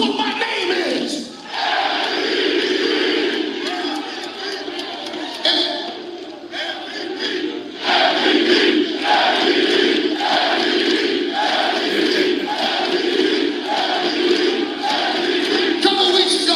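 A wrestling arena crowd at an AEW live event chants a wrestler's name in a loud, rhythmic, repeated cadence that swells in the second half, with a voice speaking over the start.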